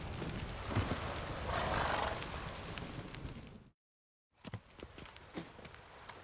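Roach, a horse in The Witcher 3, is reined to a halt with dull hoof clops and a brief snort over outdoor ambience, then the sound cuts to silence before quieter ambient noise returns.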